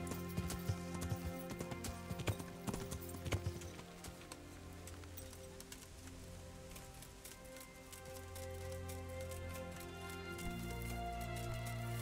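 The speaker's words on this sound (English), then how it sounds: "Horsey." Horse hooves clip-clop in a steady rhythm in the medieval game Kingdom Come: Deliverance, set against a soft rain-like hiss, with a louder low rumble in the final seconds.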